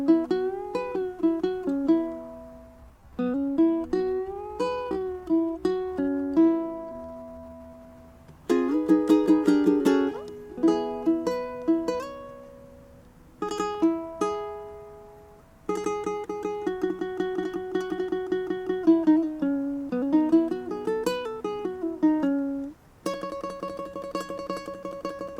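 Ukulele picking a single-note phrase with a pre-bend from a song lesson, plucked notes in repeated phrases with bends and ringing strums, played alone and close.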